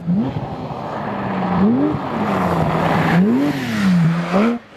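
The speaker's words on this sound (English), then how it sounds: "This is the 2019 Porsche 911 GT3 RS." A 2019 Porsche 911 GT3 RS engine revs loud and close, its pitch climbing and falling in repeated smooth swells over a steady, continuous drone, with no talking.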